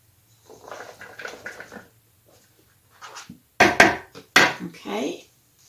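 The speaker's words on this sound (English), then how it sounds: "So I'm going to add all of this in with the macaroni." Diced vegetables, boiled eggs and drained pimentos are tipped into a bowl of macaroni, making several soft clattering, scraping bursts against the dish, with a couple of sharper knocks partway through.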